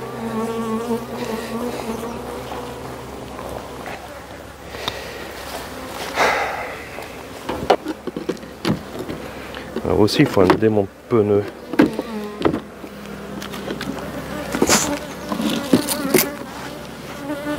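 Honey bees buzz steadily around an open hive during a summer honey harvest, a close, continuous drone with sharp bursts as insects pass the microphone, while a beekeeper speaks intermittently over the swarm.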